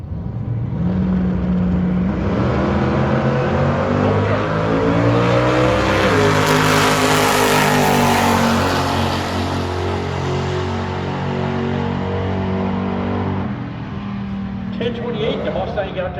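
A 1966 Chevelle and a Mustang roar down a drag strip, loud engines howling and shifting pitch through the run, with a commentator talking over the race noise throughout.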